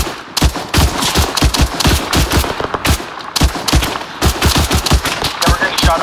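Rapid automatic gunfire in Arma 3 rattles close and loud in dense bursts, with brief voices mixed in.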